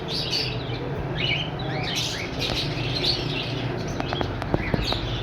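Common white pet birds, a breeding pair with a freshly laid egg, chirp and tweet in a cage, with several quick high calls and wing flutters scattered over steady background noise.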